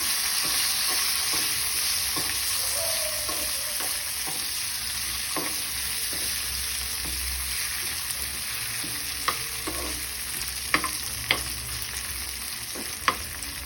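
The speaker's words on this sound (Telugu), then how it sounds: "తర్వాత ఒక ఉల్లిపాయ వేసుకోవాలండి. ఇది కూడా దోరగా వేయించుకోవాలి." Onion frying and being stirred in a pan with curry leaves for ragi masala dosa, a steady close sizzle with scraping stir strokes and a few sharp clicks of the spoon against the pan.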